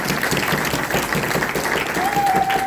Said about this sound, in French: C'est pourquoi nous le félicitons et nous l'applaudissons.